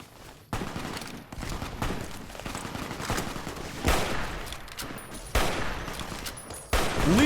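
Gunfire in the video game Fallout: New Vegas, with sharp, loud shots and short bursts at irregular intervals over a steady noisy background, some shots louder and closer than others.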